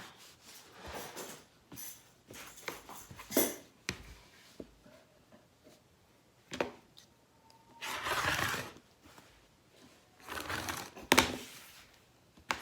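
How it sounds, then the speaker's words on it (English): A rotary cutter trims excess fabric in several separate passes, each a brief rolling, scraping swish of moderate loudness, with quiet pauses, taps and small handling noises in between. "So I'm just gonna trim all this excess off with my rotary"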